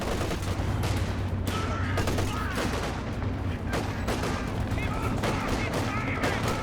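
Dense, continuous gunfire and explosions from a Company of Heroes 2 battle, with rapid overlapping shots and bursts filling the whole stretch at steady loudness.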